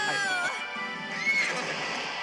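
A video game horse, a flying Pegasus, lets out a whinny, a shrill wavering call up close, then a shorter second cry a moment later.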